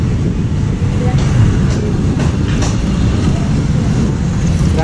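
Train rolling past the railway level crossing at Kedunggedeh, Indonesia, a loud, steady rumble with faint rhythmic wheel clatter close by, under scattered background voices.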